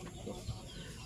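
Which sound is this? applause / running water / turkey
turkey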